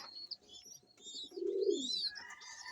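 A pigeon from Indonesia coos close by in a low, rounded burst, with faint chirps from other birds high above it.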